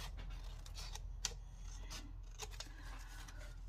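Scissors snip through a homemade quilt-pattern journal card that is still not fully dry, giving a few faint, scattered paper cuts and rasps over a low, steady room hum.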